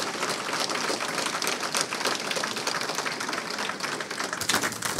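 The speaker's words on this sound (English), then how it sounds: "could we have a huge round of applause for the security guys?" Dense audience applause and clapping fills a hacker conference hall, sustained and steady throughout with no pauses, loud and close.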